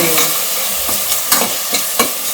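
Masala frying in hot oil for a home-cooked Karnataka dish of kadale kaalu guggri and avarebele bath, a steady close sizzle broken by several sharp scraping stir strokes; no talk.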